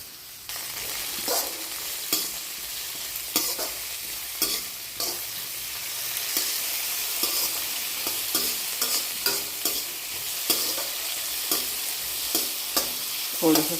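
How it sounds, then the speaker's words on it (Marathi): Cardamom, cinnamon and soaked soybeans fry in oil in a wok, giving a steady close sizzle broken by frequent sharp scrapes and clicks of stirring throughout, with no talking. "थोडंसं सगळे मसाले तेलात फ्राय करून"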